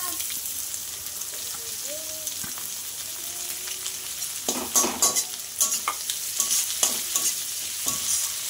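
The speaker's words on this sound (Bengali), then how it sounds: "আলুটার সাথে পেঁয়াজটাও ভাজা হয়ে যাবে।" Chopped onions hit a pan of frying potatoes, bringing a soft sizzle that turns into louder bursts of stirring and scraping in the second half, close and busy, with a faint voice early on.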